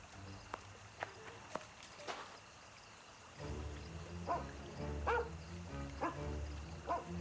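In The Testament of Sherlock Holmes, a tracking dog barks several times in quick bursts, mid-loud over game footsteps and ambience, following a quieter stretch of faint tapping.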